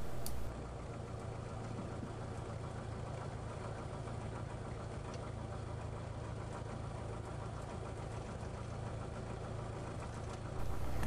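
Small airplane engine running steadily at low power while taxiing onto a grass parking area, a constant droning hum with no break for the whole stretch, close and even, no voices.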